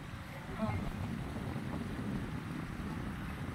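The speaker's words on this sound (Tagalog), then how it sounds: "Ang sarap ng hangin guys, fresh na fresh. Lakas pa ng hangin oh." Steady rushing wind noise buffets the microphone throughout, a constant low roar with no pauses, loud and close.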